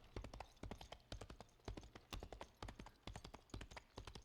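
A looped horse-hoof sample plays, with crisp clip-clop strikes repeating in a steady trotting rhythm, close and clean with no voices.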